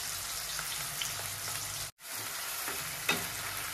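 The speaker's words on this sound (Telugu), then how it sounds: "ఆనియన్స్ ఫ్రై అవుతా ఉంది కదా" Onions sizzling and frying in a pan for an egg tomato curry, a steady crackling hiss with occasional stirring scrapes and a brief drop to near silence midway.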